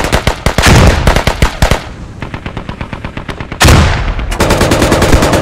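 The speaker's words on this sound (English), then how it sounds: "he's shooting his fucking AKS at us" Enemy AK rifle gunfire in a military squad video game with a BTR assault, loud rapid bursts of automatic shots, a long rattling string, then a brief pause and another sustained volley, close and dominant.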